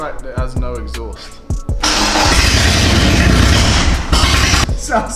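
A BMW E36 with no exhaust fitted, its engine cranking and catching, then running loud and raw at close range for several seconds after a few short bursts.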